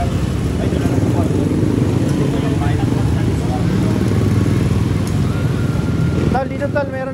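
A motorcycle passes on a street as a steady, loud engine roar with wind buffeting the microphone. The roar eases off near the end, and a faint voice can be heard under it.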